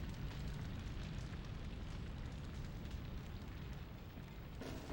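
Steady, dense roar of a raging fire in the video game Shadow of Destiny, a loud low rumble holding constant throughout with no break, easing only slightly near the end.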